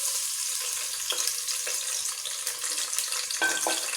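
Onions frying in about five or six spoons of hot oil give a steady, close sizzle that crackles throughout, with occasional stirring scrapes and no voices.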